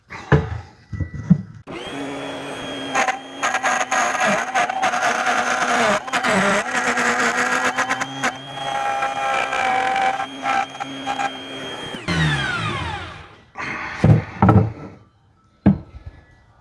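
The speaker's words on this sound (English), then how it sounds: "I'm just going to go ahead and route it" A wood router cuts into a guitar neck with a loud, sustained high-pitched whine lasting about ten seconds, then spins down, with brief knocks and handling noises before and after.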